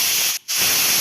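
A kitchen pressure cooker cooking radish sambar lets off its steam whistle: a loud, steady hiss that cuts out briefly and then resumes, with no voices.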